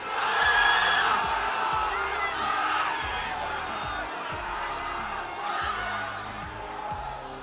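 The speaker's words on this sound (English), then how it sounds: "on the count of 3, I want you to scream support" An audience at a PAX Community Day game event screams and cheers together for over seven seconds, a loud sustained roar that stays strong from start to finish.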